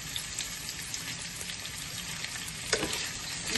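Boneless chicken pieces fry with onions for a dhaba-style mixed chicken sabzi, a close, steady sizzle with scraping stirs and one louder clatter near the end, no voices.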